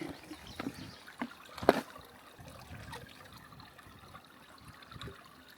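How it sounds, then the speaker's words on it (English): Water trickling from a pipe spring along the Pacific Crest Trail while it is being filtered, a soft steady running flow with a few close splashes and knocks, faint outdoor ambience, no talking. "Just filtering some water here at the spring"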